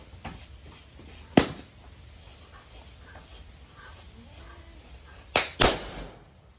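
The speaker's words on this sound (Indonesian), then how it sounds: "Mantap sekali guys, meledak balon nih" Three sharp pops of firecrackers bursting colorful balloons stand out against a quiet background, one early and then a quick pair near the end, outdoors.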